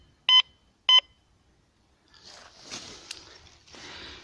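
Two short electronic beeps in quick succession from a metal detector, followed by soft rustling and scraping through dead leaves.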